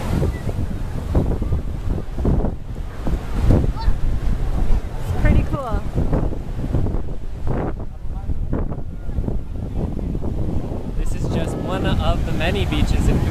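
Ocean surf at Haeundae Beach in Busan washes in steadily under strong wind buffeting on the microphone, with voices talking over the waves throughout.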